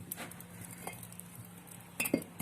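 Brick set down on an indoor apartment fireplace, a few faint clinks and scrapes followed by a sharper, louder knock near the end, close by with no talk.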